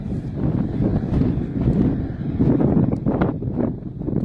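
Steady low rumbling wind buffeting the microphone outdoors at a cricket match, continuous and fairly loud throughout with no clear voices.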